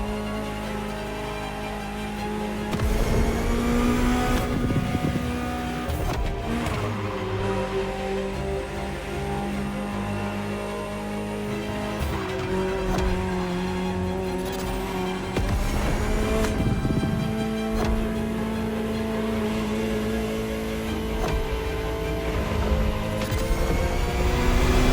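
A Ferrari engine in the racing game The Crew Motorfest, revving repeatedly with rising and falling tones, loud and close under a steady layered drone.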